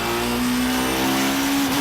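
WTCC touring cars at Brands Hatch warming their tyres, a loud sustained engine drone with a steady high whine held throughout, near and continuous with no talk.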